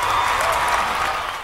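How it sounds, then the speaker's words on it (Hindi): A short burst of audience applause for comedian Shyam Rangeela at a 2017 film awards show: dense, even clapping from a large crowd, heard alone for a moment. "जोरदार तालियां शाम रंगीला के लिए।"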